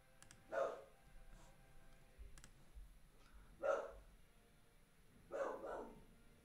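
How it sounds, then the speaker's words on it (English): A dog barks in the background in three separate bursts spread over several seconds, faint and distant, with a quiet indoor room tone between barks and no talking. "dog's barking in the background"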